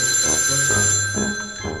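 Telephone ringing inside a Minecraft game, a steady electronic ring with sustained tones and a repeating pulsed pattern running through the whole stretch at moderate loudness.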